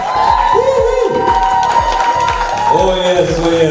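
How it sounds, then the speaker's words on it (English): Crowd at a spoken word poetry show cheers and claps for the performers, loud and close, with whoops and shouts rising over the applause and music playing underneath. "Please, a round of applause for the performers."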